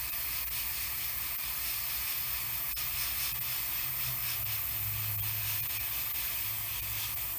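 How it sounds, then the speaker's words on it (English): An airbrush sprays camouflage paint onto a 1/35 Tamiya Sd.Kfz. 250/3 Greif model tank, a loud, steady close-up hiss with a faint low hum beneath it and no talk. "when I'm spraying this camouflage pattern on, I'm spraying it that way so any overspray goes flying off into oblivion"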